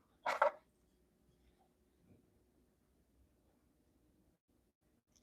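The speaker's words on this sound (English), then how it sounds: "crazy dog sounds." A dog gives a single short bark near the start, then only faint room noise follows and a brief sound returns at the very end.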